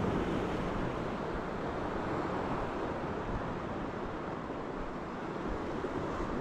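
Steady broadband roar of rough sea surf on an overcast, rainy day, constant and fairly loud, with wind noise buffeting the microphone throughout and no voices.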